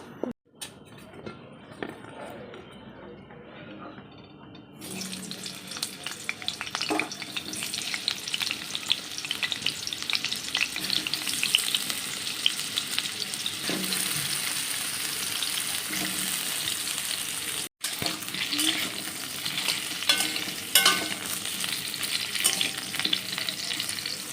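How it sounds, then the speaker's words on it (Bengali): Potatoes fry in hot oil at home, making a strong, continuous close sizzle that starts partway in and carries on with occasional stirring clatter, unbroken by speech except for one brief dropout. "আমি এখন আলুটা ভাজা শুরু করব।"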